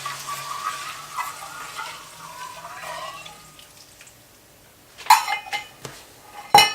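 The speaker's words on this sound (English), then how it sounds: "Put in your coconut milk. As you put it in, stir." Coconut milk poured into a hot wok and stirred makes a soft, low churn of liquid, then a few sharp metallic clinks of the utensil against the wok near the end.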